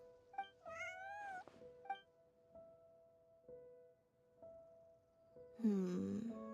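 An animated cat in the video game Genshin Impact gives a couple of close, clear meows near the start, with a longer, louder meow at the end over quiet game ambience.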